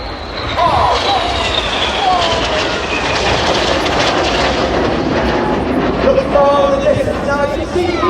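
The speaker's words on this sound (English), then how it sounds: "That's Corporal Phil, trying to recapture that 100 feet as they complete the manoeuvre called Boomerang." Display jet aircraft roaring past at the Ayr airshow during a formation manoeuvre, a loud continuous jet rush with shifting whine across the whole clip, and a commentator talking over it.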